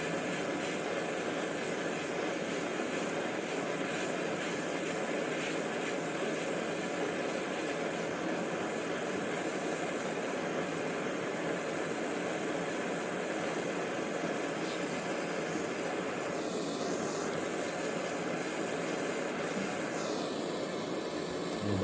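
A gas torch roars steadily while soldering silver heart jewellery, a continuous broadband rushing hiss that stays loud and even for over twenty seconds, with no talk over it.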